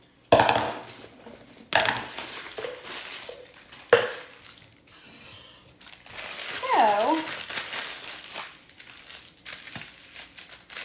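A plastic piping bag crinkles and rustles as cookie cake mixture is loaded into it for a homemade cookie cake, in bursts of crackly handling noise up close, with some brief speech in the background.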